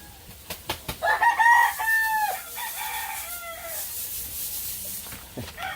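Several roosters crowing at a Filipino family's countryside home, one loud and near with drawn-out calls, others overlapping farther off, over steady outdoor background noise and a few clucks.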